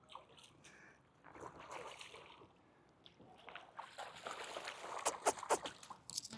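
Red toy poodle puppy paddling in a lake, soft irregular splashes and water sloshing, quiet at first and building to a livelier cluster of splashes near the end.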